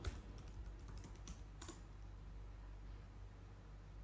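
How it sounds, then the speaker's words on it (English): Password being typed on a computer keyboard during an Odoo software install: a quiet flurry of key clicks in the first two seconds, then a low steady hum with no talking. "type your password when you are prompted to do so"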